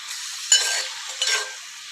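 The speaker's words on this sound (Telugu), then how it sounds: "పెసరపప్పు ఆకుకూర రెండు వేసినాం కదా, ఒకసారి మంచిగా మిక్స్ చేద్దాం" Moong dal and purslane leaves are being stirred together in a pot, with two short scraping, sloshing strokes close by and quiet between them.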